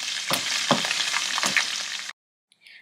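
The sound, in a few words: onions frying in oil while cooking rice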